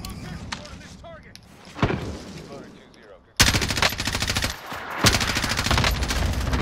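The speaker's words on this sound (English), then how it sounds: "I'm shooting him right across there" Machine gun fire in a video game: a short burst early, then after a quiet stretch dense loud rapid fire that keeps going, with voices talking at points.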